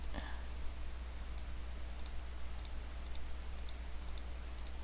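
A computer mouse clicks in short paired taps at a regular, unhurried pace over a steady low electrical hum, fairly faint and close, with no talk.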